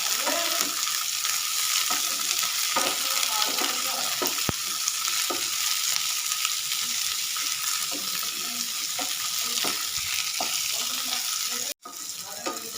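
Bell peppers fry on a medium flame in a pan for an aloo shimla mirch dry sabji, giving a steady, close hiss of sizzling with light stirring scrapes and a brief break near the end.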